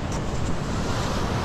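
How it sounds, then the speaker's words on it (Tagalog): Surf rolls steadily onto a beach littered with washed-up trash, a continuous loud hiss and rumble of breaking water with wind noise on the microphone, and no voices. "alon na naman to, grabe."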